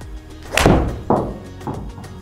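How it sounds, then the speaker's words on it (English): Mizuno JPX 921 Hot Metal Pro iron striking golf balls, two sharp close impacts followed by a softer third, each with a short decaying tail over faint outdoor background. "that's 7 interesting shots with the Hot Metal Pro"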